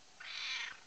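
A domestic cat gives a single drawn-out meow lasting under a second, close but fairly soft, with no talking over it.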